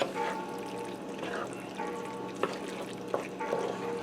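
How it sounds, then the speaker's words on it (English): Ziti pasta being stirred into a cheese sauce for bacon white cheddar pasta, giving a steady wet, sloppy churning with a couple of sharp utensil clicks against the pot, close and moderately quiet. "I'm going to stir that in to our cheese sauce."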